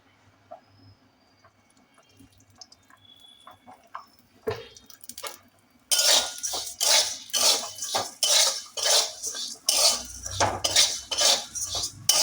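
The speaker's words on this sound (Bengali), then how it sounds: "চিড়েটা আমি মুচমুচে করে ভেজে নিয়েছি এবার দেবো এতে ঘি" Metal spoon scraping and clinking against a pan as crisp fried flattened rice (chira) is stirred with ghee, starting with faint taps and then becoming loud, rhythmic, repeated scraping strokes close up.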